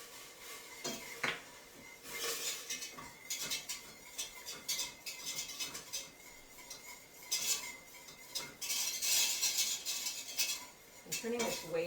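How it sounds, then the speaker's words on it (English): Metal whisk clattering and scraping in a pot as pectin is stirred into boiling freezer jam mixture, busy continuous clinking and stirring close by, alone without talk. "I'm adding the pectin. Get my other whisk here."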